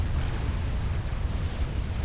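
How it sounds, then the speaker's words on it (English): A Billy Nuke detonation in the strategy game Supreme Commander rumbles as a deep, continuous low roar, steady and heavy throughout without distinct peaks, no voices over it. "Explosion in the southwest. Is that a Billy Nuke?"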